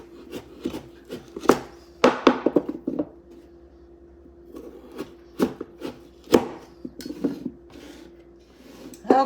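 A knife slices through raw rutabagas in a kitchen, giving a series of crisp, irregular chopping thuds and scraping cuts, close and moderately loud, with short pauses between strokes and no talk.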